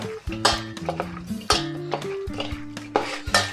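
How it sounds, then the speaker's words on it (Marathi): Washed tripe being mixed with salt and turmeric in a metal vessel gives close, repeated scraping and clinking strokes in an uneven rhythm, with bright metallic knocks and no voices. "ह्याला आता आपण थोडंसं मीठ आणि हळद लावून घ्यायचं आहे आणि आता हे आपण सगळं एकत्र करूया"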